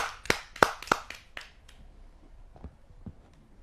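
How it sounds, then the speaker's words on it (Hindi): Audience applause greeting a poet from Gonda as he comes to the stage at a Hindi poetry gathering: a few sharp claps up front, then a thin, scattered patter that fades to quiet. "आइए जोरदार तालियों से उसका स्वागत करते हैं"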